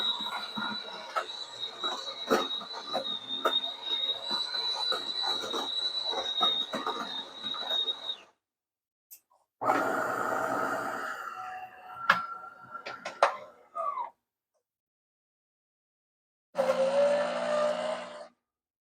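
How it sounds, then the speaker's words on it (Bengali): A coffee machine's steam wand heats milk for a cappuccino or latte, giving a steady loud hiss for several seconds, then bursts of gurgling, screaming steam separated by pauses of silence. "এখন দুধটা গরম করব"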